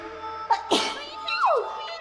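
A single loud, close sneeze bursts out sharply, followed by a brief vocal exclamation.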